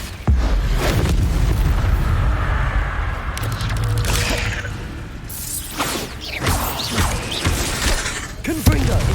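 A Bombarda spell exploding in Hogwarts Legacy, a loud sustained rumbling blast with crumbling debris and whooshing magical bursts, followed by sharp cracks and lingering crashes.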